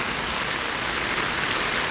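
A heavy downpour pelts down in a steady, dense hiss, loud and unbroken, over a market street where water has pooled on a newly built road.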